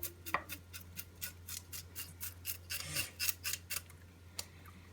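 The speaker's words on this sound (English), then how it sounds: "we'll go ahead and get this fish scaled. So we'll just get all the scales off of it." Scales being scraped off a rainbow trout: a quick series of about a dozen rhythmic rasping strokes, close and fairly quiet, with no talk.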